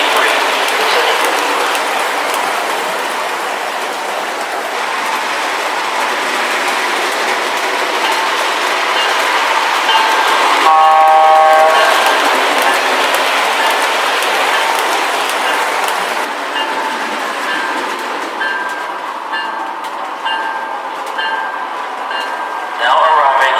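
An MTH Penn Central GG1 model electric locomotive runs steadily on a layout, a continuous rolling rumble with clicking wheels, a brief horn-like tonal burst midway and another tonal note near the end, while a station announcement plays.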